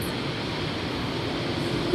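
A Bangkok Yellow Line electric train running along the line, giving a steady, moderate rolling rumble and hiss from the rail with no voices.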